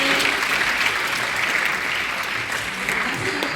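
Warm applause from an audience at a school Teachers' Day celebration, steady clapping from many hands lasting several seconds, with a hint of murmuring voices underneath.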